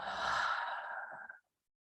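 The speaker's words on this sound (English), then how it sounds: "breathe in through the nose, exhale out the mouth for 3 deep breaths" A single long, breathy exhale through the mouth during a guided meditation, close and soft, tapering off into silence after about a second and a half.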